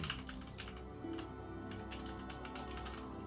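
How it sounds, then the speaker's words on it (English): Several people click away at computer keyboards during a livestream, a steady patter of overlapping keystrokes at close range with no talking. "everybody clicking away on their keyboards"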